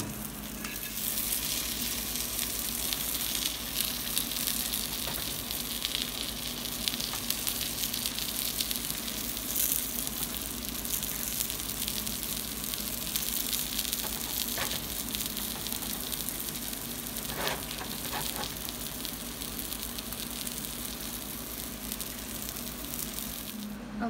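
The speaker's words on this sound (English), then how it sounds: "And then my keto bread. And I'm going to grill it up." Keto bread grills in a pan with a constant soft sizzle and hiss, close and steady for the whole stretch, with occasional light crackles and a brief scrape.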